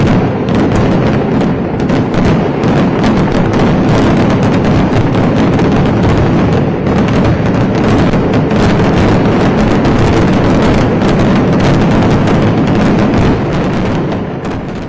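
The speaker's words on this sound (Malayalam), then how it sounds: "2 മിനിറ്റ് നീണ്ട കരിമരുന്ന് പ്രയോഗത്തിന്റെ ആകർഷണം കൂട്ടപ്പൊരിച്ചിൽ ആയിരുന്നു" The Thiruvambady fireworks display at Thrissur Pooram erupts in a dense, unbroken barrage of explosions, a loud, continuous roar of rapid bangs and crackles lasting the whole stretch.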